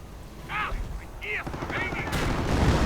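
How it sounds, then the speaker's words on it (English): Artillery barrage in the strategy game Company of Heroes, several booming blasts and a burst of gunfire crowding together toward the end, layered under a commentator's voice. "And artillery opens up."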